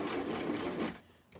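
A sewing machine runs a short, fast stitching burst on a tiny 1963 vintage Barbie doll square dancing outfit, loud and close, then stops abruptly with a faint click.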